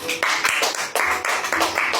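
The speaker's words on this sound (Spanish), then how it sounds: "Denle palmas al Señor." A church congregation claps in rhythmic bursts of hand claps during a worship service, loud and close, several quick volleys separated by brief pauses.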